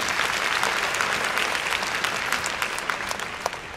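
A large audience claps steadily in a big indoor arena, applause dense and sustained from start to finish with a slight fade toward the end, no voices rising above it.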